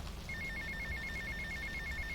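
A telephone rings in GTA Vice City, a steady electronic trill repeating in quick even pulses, loud and clear over a low game backdrop.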